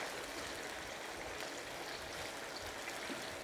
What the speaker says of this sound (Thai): ทีนี้ก็ทอดให้สุกเหลืองดีเลยค่ะ